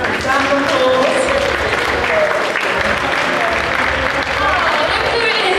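Audience applauding after a raffle prize draw at a community assembly, steady broadband clapping filling the whole stretch with voices chattering over it.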